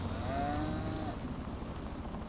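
Angus cattle in Farming Simulator 25 give a single drawn-out moo over a steady low ambient hum, fairly close and clear with no talking.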